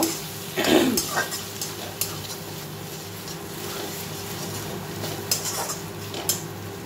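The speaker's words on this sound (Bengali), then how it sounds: "টমেটো সসটা দিয়ে একটু 2 মিনিট কি 1 মিনিট নেড়ে চেড়ে নেব" Egg tadka with tomato sauce is stirred in a metal pan, giving scraping and clinking of a spoon against the pan, strongest early and then lighter, with a soft sizzle underneath.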